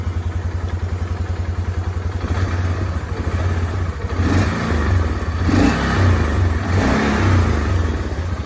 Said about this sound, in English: You're hearing the engine.